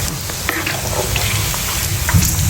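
Pieces of pork fat fry in hot oil to render cooking fat, giving a loud, continuous close-up sizzle and crackle with occasional stirring.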